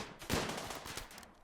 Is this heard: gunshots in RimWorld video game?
yes